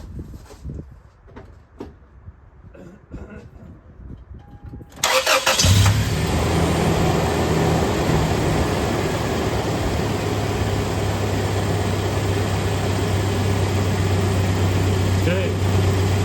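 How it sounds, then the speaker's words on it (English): A first-generation Toyota Tacoma with the 2.7L engine cranks briefly and catches, then settles into a steady, fairly loud idle; faint handling clicks and rustles come before the start. "Please start the engine"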